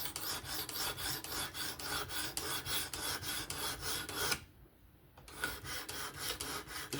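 A Kizer October folding knife being sharpened on a Work Sharp Professional Adjust sharpener: steady, rhythmic rasping strokes of the blade against the abrasive, repeating evenly, with a brief pause before the strokes resume.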